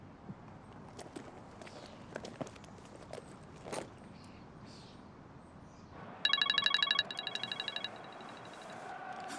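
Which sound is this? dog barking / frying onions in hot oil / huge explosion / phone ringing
phone ringing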